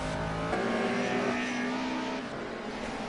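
Historic BMW and Mercedes touring cars racing on a circuit: a loud, continuous engine drone with shifting pitch as the cars run close together, holding steady throughout.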